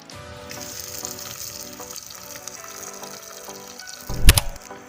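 Green chillies and onions frying in oil in a clay pot at an outdoor kitchen, a steady close sizzle with a brief louder crackle near the end.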